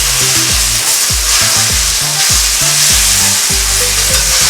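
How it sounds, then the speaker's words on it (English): Boiled, drained dumplings are stirred into a sizzling Trinidad-style curry crab, with loud, close scraping strokes repeating in a steady rhythm over continuous frying crackle. "Next we'll add in the boiled and drained dumplings, give it a stir."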